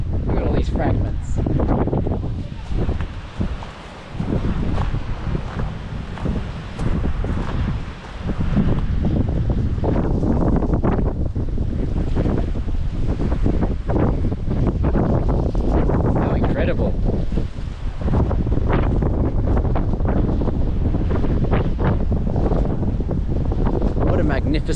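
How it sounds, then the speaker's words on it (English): Strong wind at an ancient temple site in Turkey buffets the microphone in loud, continuous roaring gusts that briefly dip and surge again, with a faint voice underneath. "Very windy."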